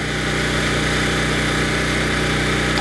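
A Kipor IG1000P inverter generator, U.S.A. version, runs steadily at a constant hum with a buzzing mechanical drone, close and fairly loud, with no voices over it.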